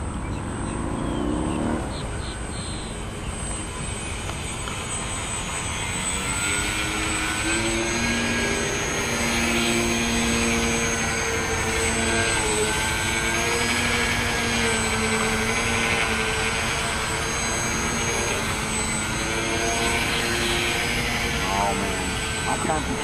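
An electric Electrify VFO R/C model airplane, powered by a 610 pack, whines steadily overhead at moderate distance for the whole stretch while people chat nearby.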